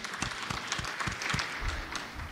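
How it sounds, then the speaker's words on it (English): Brief applause from an audience at a university research and innovation conference, a short burst of clapping with a few louder individual claps standing out. "A round of applause."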